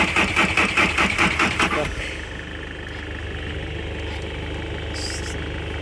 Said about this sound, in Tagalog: I want to hear the engine.